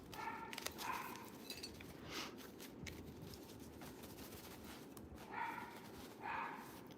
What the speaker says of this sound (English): This dog will not stop barking, y'all. She's just downstairs barking constantly.